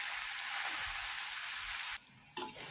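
Grated coconut dregs with cassava and papaya leaves cooking slowly over low heat in a pan, giving a bright, steady sizzle that drops away abruptly near the end before a brief return.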